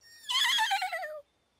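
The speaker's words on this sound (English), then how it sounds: "Dapple's the delivery horse." A cartoon delivery horse gives a single bright, clear neigh, close and loud, with a wavering whinny that falls in pitch before stopping abruptly.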